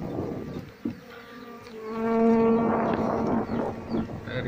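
Apis cerana honey bees buzz steadily around an opened hive during a honey harvest, a dense close drone with a sustained hum that swells louder through the middle and stays constant, no talking.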